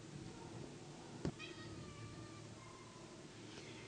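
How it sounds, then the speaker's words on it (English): A big tabby cat gives a single short meow, heard once close up against a steady background hum and some faint chatter. "A nice big tabby."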